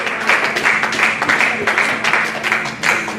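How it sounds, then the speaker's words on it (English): An audience at a mosque unity banquet in Atlanta breaks into sustained clapping, a thick wash of many hands swelling in waves over several seconds. "Everybody clapping."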